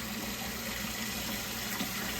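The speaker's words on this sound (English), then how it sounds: "Fill all this up with water, as much as I can." Water runs steadily from a tap into a pot for a turkey brine, a close, constant rushing and splashing that carries on evenly without any talk.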